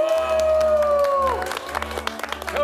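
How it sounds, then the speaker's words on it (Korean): An audience at a Pyeongchang Winter Olympics parade of nations applauds and cheers with whoops, the clapping growing sharper and more scattered while a sustained music tone and low pulses continue underneath. "내빈 여러분께서는 큰 박수를 부탁드립니다."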